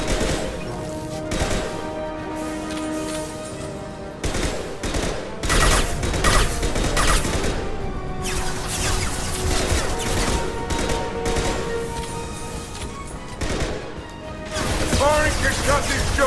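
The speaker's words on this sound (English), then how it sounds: "Firing concussive shot." Bursts of gunfire and concussive weapon blasts from the Mass Effect 2 video game, dense and loud across the whole stretch with repeated heavy impacts and crashes, mixed with game voice lines.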